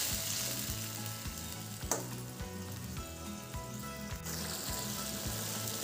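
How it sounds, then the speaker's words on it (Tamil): Tamarind water bubbles and sizzles steadily in a hot pan, close by, with a brief scrape of stirring partway through and no one talking. "நல்லா புளி தண்ணி கொதிக்க ஆரம்பிச்சிட்டு பாருங்க"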